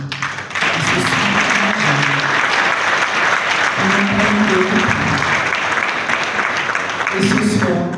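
An audience at an anniversary celebration for a Gabonese foundation claps loudly and continuously in honour of Gabonese women, steady applause filling the room with a voice talking faintly underneath.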